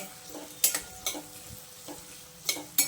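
Onions fry in oil in a pan for a Maharashtrian shev bhaji, a soft steady sizzle broken by several sharp scrapes and clinks of a spoon stirring, close and quiet.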